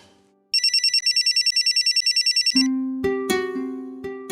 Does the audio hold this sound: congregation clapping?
no